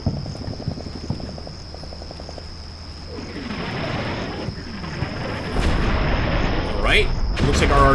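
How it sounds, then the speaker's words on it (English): Artillery shells from the Combat Mission Cold War video game land in a string of muffled distant booms that swell into a louder, rumbling barrage, over a steady whine and faint chirping ambience. "Looks like our artillery is hitting."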